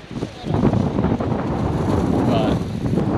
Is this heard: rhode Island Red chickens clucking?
no